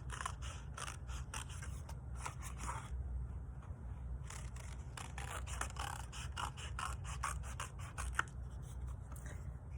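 Repeated crisp snips and scraping of scissors cutting paper, in short bursts with brief pauses, over a steady low hum; no talking.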